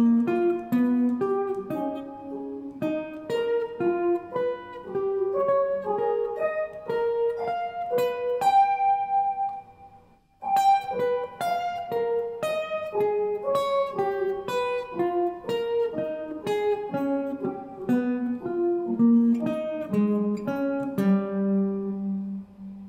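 An electric jazz guitar works through an interval exercise in fifths, picking a steady stream of clean, evenly spaced two-note steps up and down the neck, with a brief pause midway, played solo and close.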